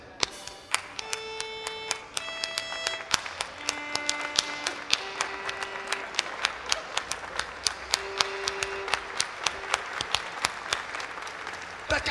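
Festival crowd clapping along in a steady rhythm, many hands giving sharp regular claps over a live folk band's tonal music at a folk festival, with no talking.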